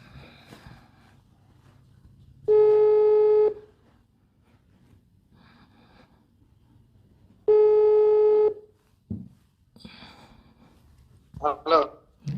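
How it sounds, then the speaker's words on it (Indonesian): Two long, steady telephone ringback tones sound a few seconds apart during repeated calling, separated by quiet gaps, with brief voice sounds and clicks near the end. "Telepon lagi pokoknya sampai diangkat."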